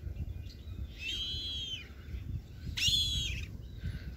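A black kite gives several high, thin, drawn-out whistling calls, two clear bursts over a low rumbling background, moderately near.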